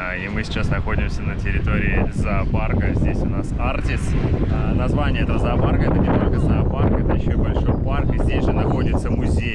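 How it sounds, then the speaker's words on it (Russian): Wind gusts across the grounds of Artis zoo in Amsterdam on a grey morning, a steady buffeting rumble on the microphone that runs under continuous close talking throughout. "Я думаю, то, что вы слышите, дует какой ветер."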